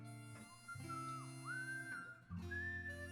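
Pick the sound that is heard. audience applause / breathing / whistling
whistling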